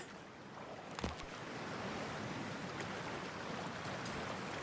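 Character entering water in the Cyberpunk 2077 video game, a brief splash-like burst followed by a steady, faint rushing wash like surf or moving water, with no voices.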